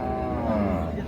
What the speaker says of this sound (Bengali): এটা এটা এটা বকনা বাচ্চা। শাহিওয়াল বকনা।